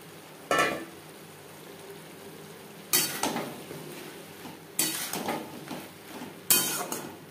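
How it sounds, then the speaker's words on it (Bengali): Eggplant tossed with onion and spices in a pan: four sharp metallic scrapes and clanks of a spatula come at intervals of about two seconds over a soft, continuous frying hiss. "পেঁয়াজ ও মশলার সাথে বেগুন বেশ ভালো করে মিক্সড করে দেব।"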